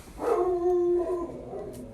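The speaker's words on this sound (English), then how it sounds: "that's my dogs." Dogs at home howl close and loud, one rising, wavering howl lasting about a second, followed by softer yips trailing off.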